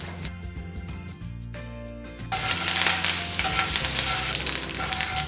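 Curry leaves dropped into hot oil with mustard seeds and asafoetida, a sudden loud burst of sizzling and spluttering that continues steadily after a quieter opening with music.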